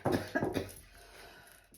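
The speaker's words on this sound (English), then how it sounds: "Sorry guys, I'm coughing." A couple of close, raspy coughs in quick succession, followed by quieter breathy noise fading out.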